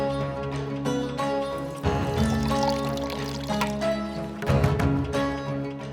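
Water is poured for someone to drink, a steady close pour running several seconds with shifting pitch as the vessel fills. Faint background sounds sit beneath it.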